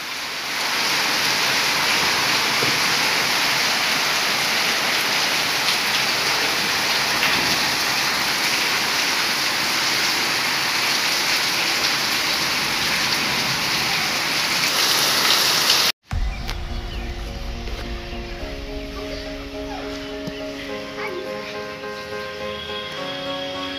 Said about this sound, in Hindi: तो आप लोग देख सकते हैं यहाँ पर कितना बारिश हो रहा है।